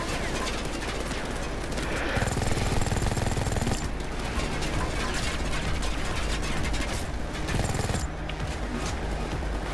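A light machine gun fires in a first-person shooter video game, producing loud, dense, sustained automatic bursts with brief pauses, mixed with game noise.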